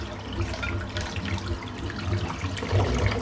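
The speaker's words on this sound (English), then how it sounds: "And then I'm going to rinse the soap now." Running tap water pours steadily over a shaving soap as it is rinsed in a sink, a continuous close splashing wash with no talk.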